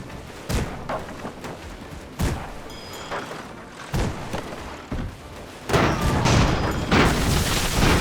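Explosions and heavy thuds hit an armoured tank in the airship battle game Airships: Conquer the Skies, several sharp booms spaced irregularly, then a denser rumbling barrage near the end.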